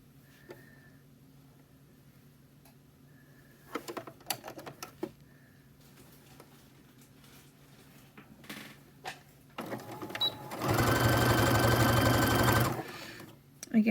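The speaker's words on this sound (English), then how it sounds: "Okay, now we're going to start stitching." A sewing machine runs a fast, steady burst of stitching along a quarter-inch seam on a scrunchie, about two seconds long, after quiet handling clicks and light rustling.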